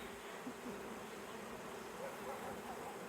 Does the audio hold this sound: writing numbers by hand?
no